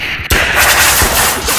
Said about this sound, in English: Automatic gun.